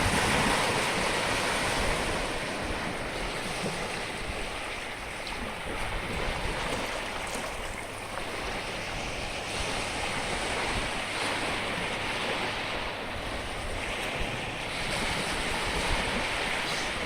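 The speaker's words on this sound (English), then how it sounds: "I'll get a nice little close-up here of these beautiful waves coming the Atlantic" Small Atlantic waves wash continuously onto the beach at Gould's Inlet on Saint Simons Island, Georgia, a steady broadband surf roar with wind buffeting the microphone and no distinct breaks.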